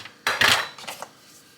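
A few quick scraping and clinking strokes of a utensil against a bowl while stirring flour and baking powder for a Dundee cake, brief and close, with no talk.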